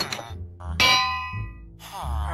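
A bell in Minecraft 1.20 rings with a bright metallic clang, struck a few times in quick succession with a ringing decay between hits, loud and close.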